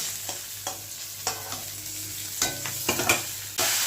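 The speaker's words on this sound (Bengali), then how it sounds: "এগুলি একটু ভেজে নেব ভেজে তুলে নেব মাছ ভাজা তেলটার মধ্যেই আমি" Potato and cauliflower frying in oil left from frying fish, a close bubbling sizzle broken by repeated spatula scrapes and knocks against the pan, with a louder burst of sizzling at the end.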